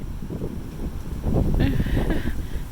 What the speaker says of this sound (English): See, it's windy.